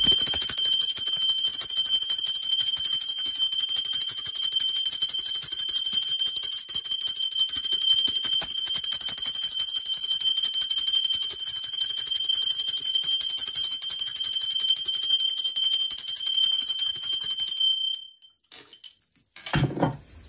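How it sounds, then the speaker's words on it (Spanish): A sustained high, ringing bell tone holds steadily for about eighteen seconds, then cuts off abruptly into a few soft knocks. "en el momento que suena la campana, que es una energía de alta vibración"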